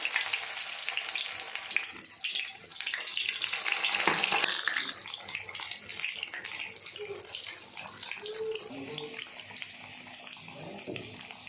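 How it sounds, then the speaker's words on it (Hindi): Chicken cheese lollipops deep-frying in hot oil, a loud, dense sizzle that swells for the first few seconds, then settles into a steadier bubbling crackle with faint clinks near the end. "इनको फ्राई करेंगे। ऑयल हमारा गर्म हो चुका है।"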